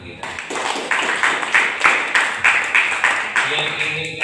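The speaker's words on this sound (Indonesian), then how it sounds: "Tepuk tangan untuk kita" Group clapping from a school audience at SMA Negeri 23 Batam, arriving as rhythmic, roughly unison bursts about twice a second, steady and fairly loud throughout.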